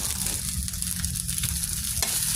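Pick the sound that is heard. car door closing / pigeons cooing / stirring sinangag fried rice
stirring sinangag fried rice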